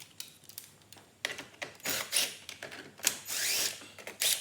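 Small 9/32 screws being worked out of Corvette radio trim, giving close, faint ratcheting clicks and scraping taps in irregular bursts, with no talk.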